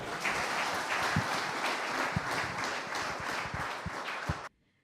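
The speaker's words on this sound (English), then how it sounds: "Please clap for him again" An audience at a university session with President Ruto claps steadily, a sustained round of applause at moderate level that cuts off abruptly near the end.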